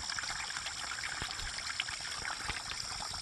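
Water from a pond trickles down a small ditch toward a creek after heavy rain: a steady, close, bubbling flow with a constant hiss and light gurgles throughout.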